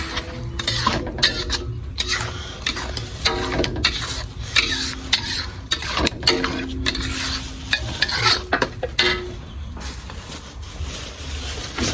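Tempeh fries in hot oil in a pan and is stirred, a steady sizzle broken by repeated scraping and clattering strokes of a utensil against the pan, close and fairly loud.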